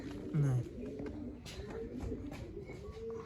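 A pigeon coos low and close, a soft rolling call near the start, with faint outdoor background and brief murmurs afterward.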